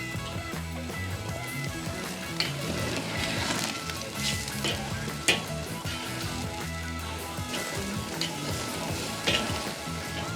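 Ribeye steaks searing over direct high heat on a hot grill grate, a dense, continuous sizzle with occasional crackles and spits, close and steady throughout, with no talking.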